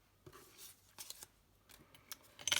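Scissors snipping diagonally across craft cardstock, a few separate crisp cuts spaced out with quiet gaps between them, close and fairly soft.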